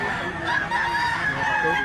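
A rooster crows in a long, loud, drawn-out call close by at a rural spot in Mantalungon, Cebu, with faint background activity beneath it.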